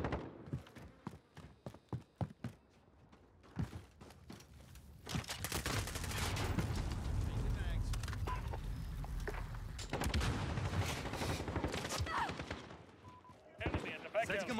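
Gunfire in the video game Modern Warfare: sharp single shots early on, then a long sustained burst of rapid automatic fire, with brief pauses and more shots near the end, mixed with voices.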